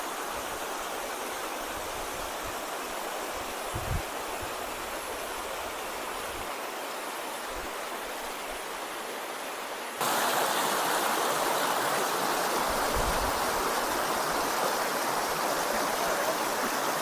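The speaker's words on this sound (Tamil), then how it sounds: "பார்த்தீங்கன்னா தண்ணி இப்படி போகுது." A stream rushes near the Nelliyampathy waterfalls in a steady, dense wash of water. It grows noticeably louder and brighter partway through.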